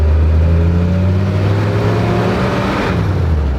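An old Jeep with mechanical four-wheel drive pulls away, its engine close and loud with a steady rumbling drone that slowly shifts pitch as it moves off.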